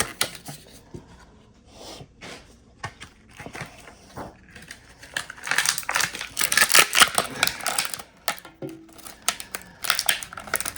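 A Star Wars Vintage Collection action figure is taken out of its card packaging with close crinkling plastic, cardboard tearing and sharp snaps, starting in scattered bursts and growing into dense, loud crackling before tapering off.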